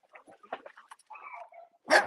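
A dog barks and whimpers in a few short bursts, with a louder, harsher bark at the end, heard close by with no talking over it.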